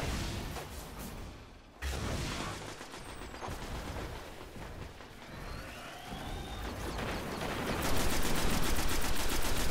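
Rapid gunfire and explosive bursts in the video game Destiny on PS4, continuous and dense throughout, with no voices.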